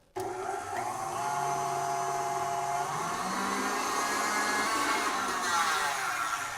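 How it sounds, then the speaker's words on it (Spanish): Electric mixer beating pavlova mixture flavored with vanilla extract, a steady loud motor whir that starts abruptly and holds continuously, with slight shifts in pitch as the blades work through the batter. "Y vamos a continuar batiendo a que todo se integre."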